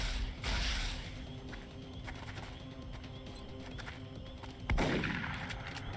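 Gunfire in the XCOM Long War video game: a burst of shots opens the scene, followed by a quieter stretch of rumbling battle ambience, then another sharp loud crack near the end.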